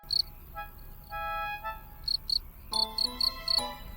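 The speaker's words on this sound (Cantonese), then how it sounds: "蟋蟀，" A cricket chirps in short, high, repeated pulses, grouped in quick bursts, alongside sustained tonal notes, no voices.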